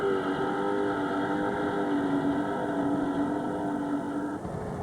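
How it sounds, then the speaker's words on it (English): Engines of 1990 offshore racing powerboats in an OPT national championship race, heard from a helicopter overhead as a steady, dense roar that drones on without a break. "listen to our helicopter pick up the sounds of the engine"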